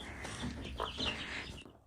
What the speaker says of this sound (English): Such an interesting chicken.